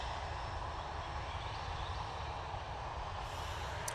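A Jet2 Boeing 737-300 rolls out after landing on the runway, using a lot of the strip; a steady, fairly faint broadband engine roar holds throughout, with a low rumble beneath and no voices.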